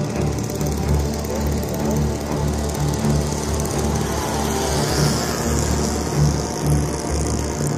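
A Magnum 120 engine on a Razzle RC model airplane drones loud and continuously as the plane passes low, a steady buzzing roar with slight swells and no pauses.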